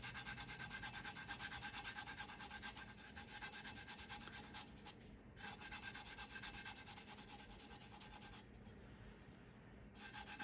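A fingertip rubs holographic film onto a tumbler in steady, continuous close-up friction, a dense scratchy swishing that runs almost unbroken, dipping briefly twice before resuming.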